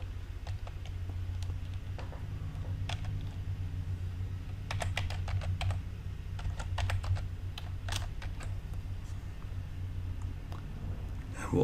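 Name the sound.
typing on a computer keyboard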